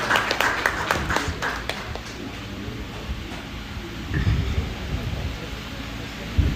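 A crowd at a graduation ceremony claps steadily in a broad, noisy wash, the applause continuing under a low background rumble throughout.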